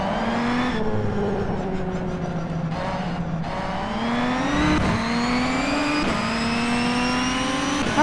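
A Renault race car engine in the rFactor 2 racing game revs and winds up through the gears, loud and close, with steady pitch climbs broken by shifts and no talking.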